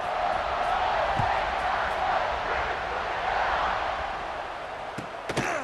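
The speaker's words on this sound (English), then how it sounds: "You think this crowd's going to get loud when their defense comes on the field?" A large stadium crowd in EA Sports College Football 26 roars in a steady, continuous wash of noise, with a couple of sharp knocks near the end.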